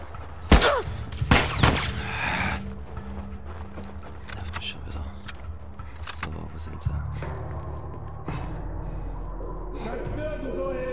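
Several loud gunshots crack in quick succession early on in The Last of Us on PS3, followed by mechanical clanks, distant rumbles and scattered game sound effects.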